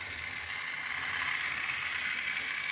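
A GWR Prairie model railway locomotive runs roughly, giving a continuous gritty, rattling mechanical whir with a ratchet-like buzz, steady and fairly quiet, heard close with no talk over it.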